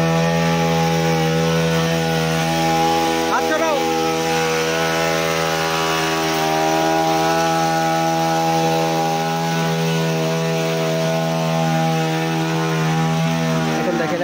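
A hedge trimmer runs with a steady, loud, buzzing motor drone while cutting thuja and ixora bushes, the pitch wavering slightly as the blades bite into the foliage, continuous for the whole stretch.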